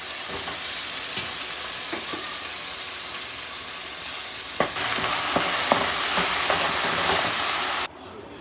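Tomato, onion and cashew paste frying in a pan: a steady broad sizzle that grows louder partway through, with occasional spoon scrapes and taps, then drops abruptly near the end.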